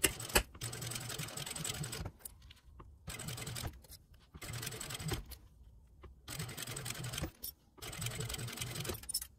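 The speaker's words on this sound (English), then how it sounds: "we will go to the sewing machine and we will top stitch." Bursts of a sewing machine top stitching a zippered cosmetic pouch in steady runs, separated by short pauses, close and fairly loud.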